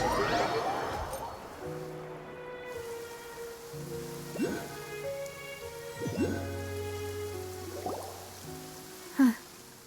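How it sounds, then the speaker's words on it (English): Steady rain falls in a Genshin Impact game scene, a soft continuous patter running beneath layered game music and chimes, with a sharp brief knock near the end. "It's been raining non-stop for a few days now."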